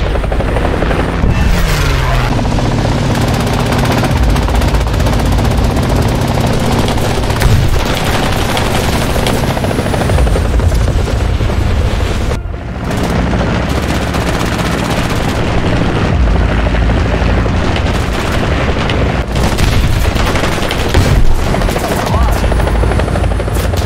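Modern attack helicopters firing 30mm cannons in War Thunder, loud rotor drone throughout, broken by rapid bursts of heavy automatic cannon fire and booms, close and dense, with a voice talking over it.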